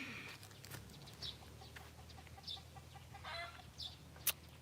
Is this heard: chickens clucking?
yes